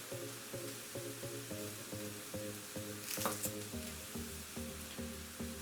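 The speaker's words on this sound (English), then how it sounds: "it will take a few minutes to fry off" Food fries in a pan for a steak and mushroom pasta, a quiet, steady sizzle running throughout with faint stirring and a brief louder hiss partway through.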